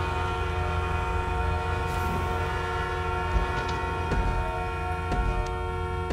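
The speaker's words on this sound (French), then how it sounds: "il klaxonne" A train horn sounds steadily in GTA V, a sustained, loud multi-tone blare holding throughout with faint clicks and rumble beneath, no talking.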